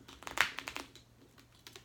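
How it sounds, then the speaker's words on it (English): Quick papery riffling of mini tarot cards being shuffled, a burst of crisp flicks near the start that tapers into softer taps, close and quiet. "Let's get a better shuffle than that."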